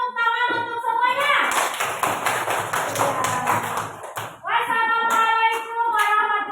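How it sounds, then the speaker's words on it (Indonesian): A group of children claps together at a school gathering, a dense burst of quick hand claps lasting a few seconds, with voices heard before and after. "Tepuk tangan untuk semuanya."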